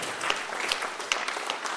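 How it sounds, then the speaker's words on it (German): Audience applause for the speakers at a talk on building the city of the future, a soft, moderately distant patter of many hands with a few sharper individual claps standing out. "noch mal einen dicken Applaus für all unsere Rednerinnen und Redner hier"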